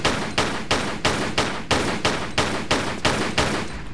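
Rapid gunfire from the Tomb Raider 4: The Last Revelation video game, about ten loud shots in a steady even rhythm, close and continuous, with no talk over them.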